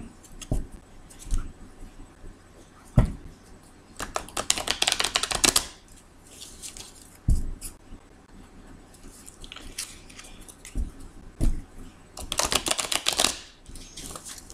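A deck of tarot cards is shuffled in bursts, with crisp riffling and card-slapping runs separated by soft handling noises and pauses, close and fairly clear with no talking.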